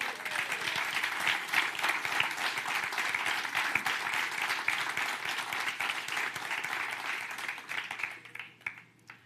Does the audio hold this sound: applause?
yes